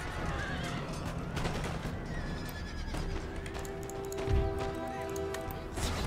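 Cavalry horses in an Empire: Total War battle neigh loudly and whinny, mixed with clip-clopping hooves and battle clatter, several calls overlapping amid the din.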